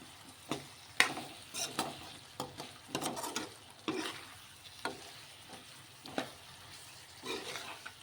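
Fish curry with tomato and onion simmers in a pan. A soft, quiet sizzle runs throughout, broken by scattered stirring scrapes and clinks. No one speaks.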